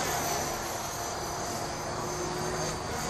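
A T-Rex 500 RC helicopter flies in strong wind, giving a steady, close, unbroken drone of rotor and motor that stays even for the whole stretch under a broad rush of wind.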